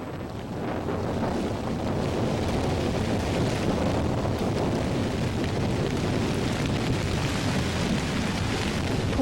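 A storm drives wind and white waves against an island, a continuous roaring, broadband rush that swells in at the start and then holds loud and unbroken, buffeting like gusts on a microphone with no voices.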